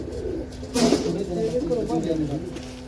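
Bega pigeons in a loft cooing low and throaty, several rolling calls after a brief louder burst, with someone talking over them.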